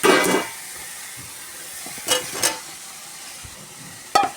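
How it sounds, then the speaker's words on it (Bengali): Potatoes go into a pan of sautéed masala for an egg curry, opening with a loud sizzling splash, then quiet frying with a few distinct stirring scrapes spaced through the clip. "আর একটু নাড়াচাড়া করে এবার আলুগুলো দিয়ে দেবো"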